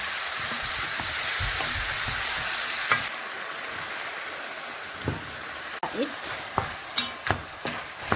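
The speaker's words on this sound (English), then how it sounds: "then my marinated meat after the onions are ready. Then I'll keep stirring it." Marinated meat stirred with fried onions in a pot, a steady broadband sizzle with sharp scrapes and clacks of the spoon against the pot coming every half second or so in the second half.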